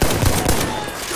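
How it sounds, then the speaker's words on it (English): Loud, dense blast and rumbling battle noise from a tank grenade going off in the first-person shooter Battlefield 1, with heavy low-end booms and gunfire-like crackle running throughout the short stretch. "Oh, that's a tank grenade."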